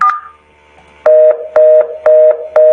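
Telephone tones on a networking lab call to extension 003: a brief dial blip, a pause, then four evenly spaced steady ringback pulses, loud and clean with no talk.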